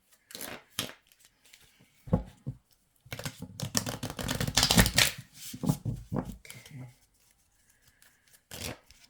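Oracle cards from a dreamers deck are shuffled in close, papery bursts, with riffling and flicking of card edges that swell into a longer run mid-clip before thinning to a few soft taps.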